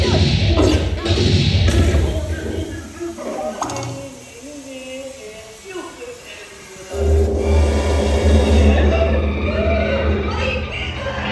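A staged explosion in a Hollywood Studios stunt show booms out as a heavy thud with crashing debris and rumble, then a loud sustained roar surges again after a quieter middle stretch with voices.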